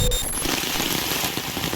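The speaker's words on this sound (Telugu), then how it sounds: "ఇలా వాన పడుతుందని తెలుసు అందుకని" Heavy rain pours in Goa as a steady, dense hiss that fills the whole stretch. It is loud and close, with no voices.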